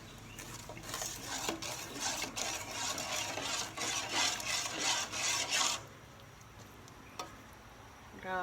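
A spoon or spatula stirs sticky rice pudding with longan in a pot, a steady rhythmic scraping and rubbing that runs for several seconds and then stops, leaving quieter background noise.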